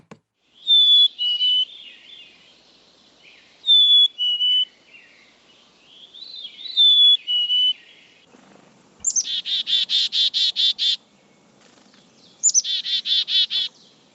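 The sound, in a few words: black-capped chickadee song played back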